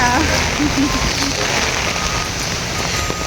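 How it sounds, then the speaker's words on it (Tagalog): Steady, loud heavy rain pours down at a lighthouse in a dense constant hiss, with a faint voice and some background hum underneath. "Grabe guys, ang lakas ng ulan."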